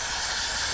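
Chain wax spraying onto the chain of a KTM Adventure 390 motorcycle, a steady close hiss of aerosol that runs unbroken and fairly loud throughout.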